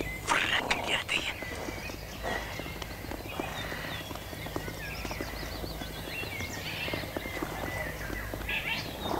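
Carriage horses' hooves clip-clop in a brisk, steady rhythm, moderately close, with whispered or hushed voices over the hoofbeats.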